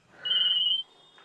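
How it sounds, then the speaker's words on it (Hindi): A mobile phone sounds a single bright electronic ring tone, one sustained beep of about half a second, close and clear in a quiet room. "तेरा फोन बोल गया।"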